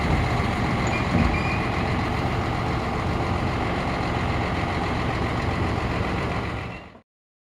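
A heavy truck idles steadily while a trackhoe is loaded onto it, a continuous low diesel rumble close by with no talk, cutting off abruptly at the end.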